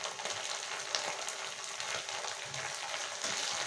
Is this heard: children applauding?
no